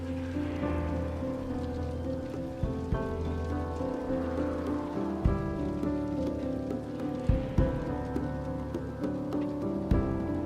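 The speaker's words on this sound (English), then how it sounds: "I love when songs have the sound of rain and thunder in them." Rain and rumbling thunder woven into a song, a steady wash of falling rain layered over sustained music with low thunder swells, continuous throughout at moderate level with no voices.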